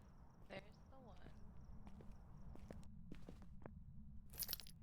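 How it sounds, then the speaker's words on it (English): Heavy player footsteps thud across a haunted house floor in the horror game Phasmophobia, a run of distinct quiet knocks and scuffs with faint electronic sounds in the background. "It was just me walking. I got heavy footsteps."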